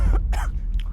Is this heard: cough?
yes